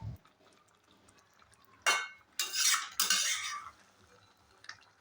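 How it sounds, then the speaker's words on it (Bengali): A spoon scrapes and clatters against a pot of Bengali chicken and potato curry in a few quick bursts, followed by a metallic clink as a lid goes on. The sounds are close and clear over a quiet background. "এবার আমি কিছুক্ষণ নেড়ে চেড়ে ঢাকা দিয়ে আঁচ কমিয়ে দেব"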